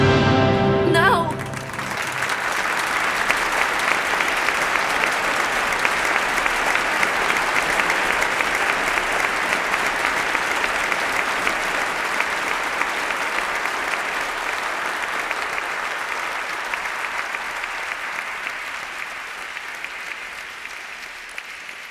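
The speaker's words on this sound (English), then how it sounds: "We will clap for an hour." A theatre audience breaks into sustained applause after a brief moment of talk, and the dense clapping carries on steadily for about twenty seconds before slowly thinning toward the end.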